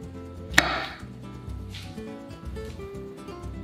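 Knife chopping three red chilies on a cutting board, one sharp loud chop standing out near the start, followed by softer irregular cutting taps alongside kitchen background noise.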